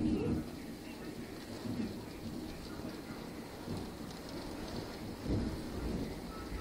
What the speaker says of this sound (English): this is the worst storm I've ever been in my entire life